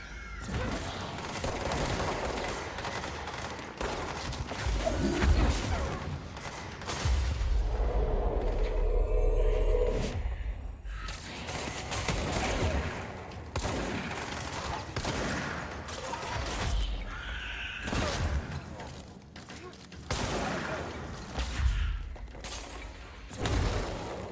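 Gunfire and explosive booms from the video game Control, a long run of dense shots and blasts with brief lulls, loud and continuous throughout.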